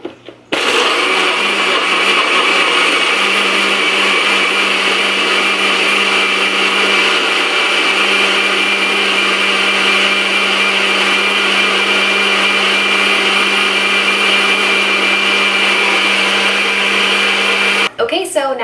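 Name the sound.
blender blending a smoothie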